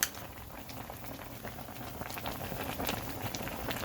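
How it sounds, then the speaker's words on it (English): A crawfish seafood boil with potatoes and lemon bubbling in a pot, a steady dense rolling burble with scattered pops, fairly close and continuous, with no talking. "Got a little crawfish boil."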